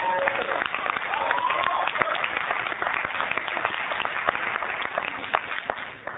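Steady applause from a gathered crowd honoring the Portsmouth Girls Softball League champions at a city council meeting, dense and continuous with scattered sharp claps throughout.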